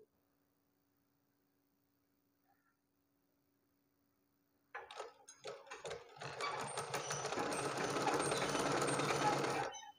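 A sewing machine stitches blouse fabric, starting after nearly five seconds of quiet with a few clicks, then running in a fast, steady mechanical whir close by until the end.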